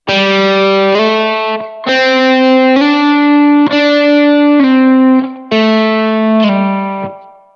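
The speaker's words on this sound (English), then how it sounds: "And a slide, which sounds like this." Distorted electric guitar notes glide between pitches in a repeating phrase, sustained and loud, with brief gaps between the sliding passages.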